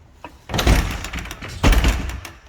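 A door at an abandoned restaurant is pushed shut, giving two heavy scraping thuds about a second apart, close and loud, with quieter rattling between them and no speech.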